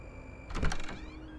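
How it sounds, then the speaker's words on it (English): A door swings open with a short rattling, clattering burst lasting under half a second, close by, over a low hum of background noise, no one talking. "the door swings open"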